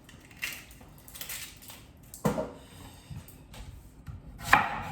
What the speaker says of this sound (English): I just cut it into rough chunks